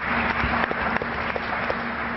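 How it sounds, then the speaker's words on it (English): Audience applause for startup presenters after a Startup Battlefield pitch by Desmos, a steady dense clapping from a full room that fills the whole moment without pause. "Big round of applause for them"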